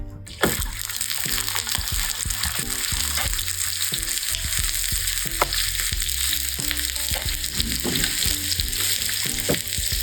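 Seasoned beef for Philly cheesesteak sliders sizzles loudly on a hot griddle, a steady close frying roar broken by occasional clicks and scrapes, with no one speaking.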